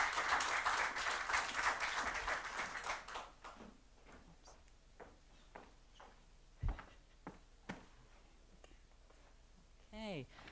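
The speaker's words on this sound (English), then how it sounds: "Please give a big round of applause to Mrs. Yael Arad" An audience at a marketing panel gives a panelist a round of applause: loud clapping fills the first few seconds, then thins to scattered claps, a few knocks and quiet rustling.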